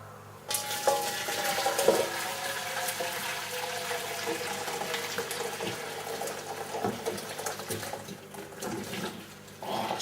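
A meat casserole being stirred in a pot, a steady wet sloshing and scraping that carries on continuously without talk.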